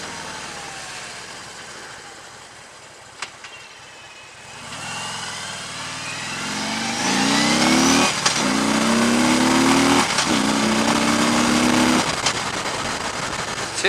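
2015 Harley-Davidson Electra Glide Ultra Limited ridden through a village, its engine quiet at first, then swelling into a loud, rising drone with repeated climbs in pitch as it accelerates through the gears, with steady wind rush throughout.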